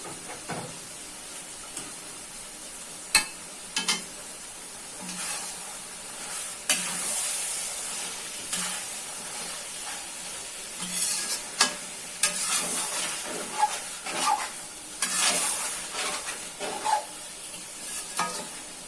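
Capsicum and chopped green chili frying in a pan for chili chicken, a soft constant sizzle broken by repeated scraping stirs and sharp clinks, close by.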